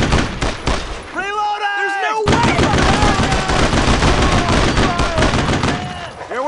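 Rapid machine-gun and rifle fire in the World War II shooter Brothers in Arms: Road to Hill 30, loud continuous bursts with a brief lull, with voices shouting over the combat.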